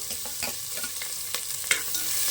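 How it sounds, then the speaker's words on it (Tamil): Green chillies, dried red chillies and shallots frying in a pan, with a steady soft sizzle under a spoon stirring and scraping at a few short points. "போட்டு நல்லா வதக்கி விட்டுருங்க நல்லா வதக்கிட்டு"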